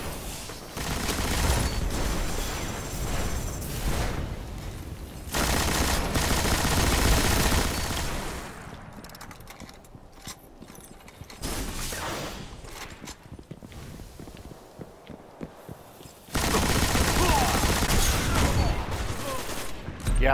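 Gunfire in the Destiny Iron Banner video game mode, dense sustained bursts of weapon fire in long loud stretches broken by quieter gaps with scattered shots and footsteps.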